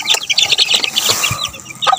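Chicks cheeping near the microphone in a backyard setting, rapid high chirps in short bursts with a few soft thuds and rustles in between.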